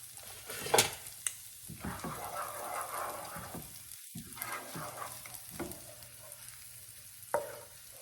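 Dehydrated onions fry in olive oil with a steady close sizzle, broken by a few sharp clinks and stirring scrapes and a brief quiet gap midway.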